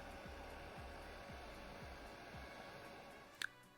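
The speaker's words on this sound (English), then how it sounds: "you just use an air blower for warming up the plastic outside" An air blower runs steadily while warming the plastic of a 3D-printed furry coronavirus spike protein model, a constant breathy hiss with low rumble throughout and a brief sharp click near the end.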